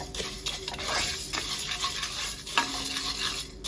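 Kerala-style beef roast stirred nonstop in a very hot pan: a dense close sizzle with continuous scraping of a spoon against the metal and an occasional sharper knock, no voices.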